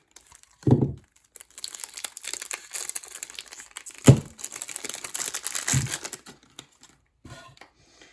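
Crinkly plastic and card packaging rustles and crackles as a new Xman Ambition 4x4 speed cube is unwrapped, with a few sharp thumps and handling knocks between bursts of crumpling, close and fairly quiet.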